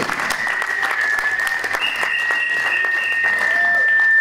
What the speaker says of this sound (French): Acclamez très fort la parole